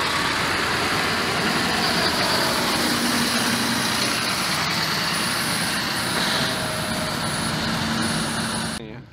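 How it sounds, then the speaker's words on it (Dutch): Big farm tractors rumble in a steady, dense idle at a farmers' protest in The Hague, a loud continuous engine drone with faint voices and higher tones mixed in, ending abruptly. "Een paar dikke trekkers."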